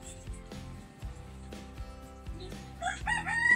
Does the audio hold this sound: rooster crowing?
yes